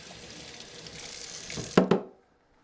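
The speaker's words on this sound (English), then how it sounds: "I'm going to rinse my funnel that had Be Bright in it." Tap water runs into a sink to rinse a winemaking funnel, a steady close splashing stream that swells briefly with two louder gushes before cutting off into silence.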